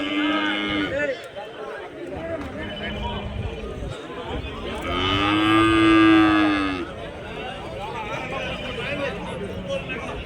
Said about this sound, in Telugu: జస్ట్ మీరు ఇక్కడ దూడలు చూడండి